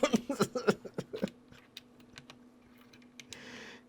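Rapid clacking keystrokes on a broken computer keyboard come in a quick burst of sharp, close taps, then thin out into scattered isolated clicks over a low steady hum.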